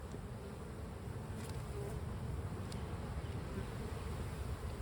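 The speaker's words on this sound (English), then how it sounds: "Boy, look at all those bees." Bees swarm around an open hive during an inspection, a dense steady buzz filling the air close by with a few individual insects droning past.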